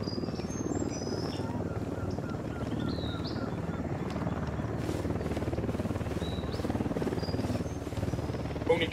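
A helicopter drones steadily in the video game Ghost Recon Wildlands, a low continuous rotor rumble holding at moderate loudness with faint chirping ambience above it and no talk.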